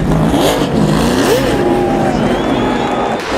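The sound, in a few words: NASCAR race cars spinning and making contact on track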